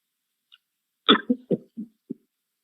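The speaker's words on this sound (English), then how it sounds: "Just getting a lot of cough" A short burst of coughing: one harsh cough followed by several quicker, weaker coughs, close and fairly loud, with no talking.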